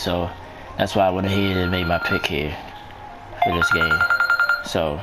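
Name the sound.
mobile phone ringing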